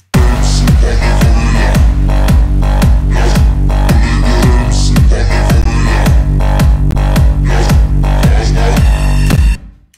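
A loud, gritty synth bass drop pounds in a fast, driving rhythm with punchy repeated hits, filling the whole stretch before stopping suddenly.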